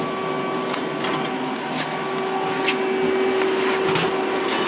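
Hydraulic pump running on a Samsung PL10 CNC lathe, a steady close mechanical hum with a constant tonal whine and occasional light clicks over the machine noise.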